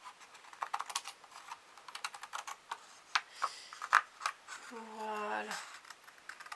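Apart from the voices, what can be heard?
scissors cutting paper for a goodies card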